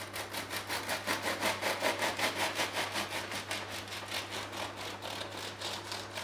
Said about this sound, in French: J'ai essayé de découper une tranche de la taille du commerce, hein, en prenant soin de prendre un couteau scie.